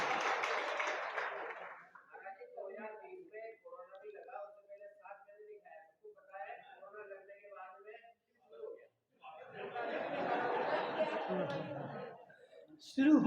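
Applause from a seated audience at a Jain religious discourse, a dense burst of clapping at the start and another longer round near the end, with quiet speech-like sounds between them.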